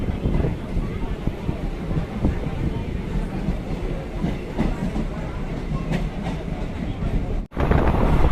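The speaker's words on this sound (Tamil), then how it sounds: "உடனே பச்சை கொடி காட்டி ட்ரெயினை அனுப்பிச்சி வச்சுட்டாங்க." Manamadurai to Trichy DEMU express train pulling away from a station: a steady rolling rumble with rhythmic clickety-clack of wheels over rail joints, heard close and moderately loud.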